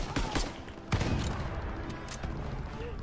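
Gunfire in the Call of Duty WWII shooter game on PS4, a burst of overlapping shots with sharp cracks near the start and around one second, followed by a dense, continuous rattle of battle noise.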